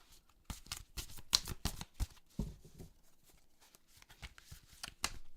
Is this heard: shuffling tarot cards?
yes